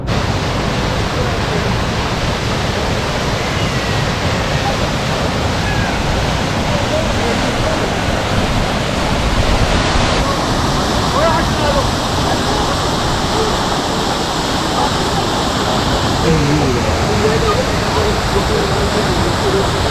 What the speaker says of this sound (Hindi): और सामने हमें एक बहुत ही प्यारा जो वाटरफॉल है वो दिख गया है